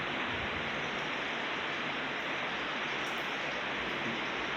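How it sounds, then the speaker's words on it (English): Steady rain pours down during a thunderstorm in Santa Ponsa, a dense, constant hiss with no gaps that stays loud and close throughout, with no voices over it. "The rain's coming in."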